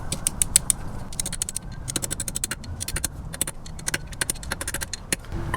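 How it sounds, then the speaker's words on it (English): A short 13 millimetre socket drives cone washers down onto a Toyota 4Runner solid front axle, a rapid, close clicking ratchet rattle in quick irregular bursts over a low background hum. "we can drive these cone washers down into place with a 13 millimeter socket"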